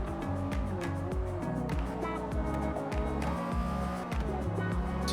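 A car driven hard on the Fujimi Kaido mountain road in Forza Motorsport, engine revving loud and continuous through rapid gear shifts with rising and falling pitch and occasional tire squeal, up close and without letup.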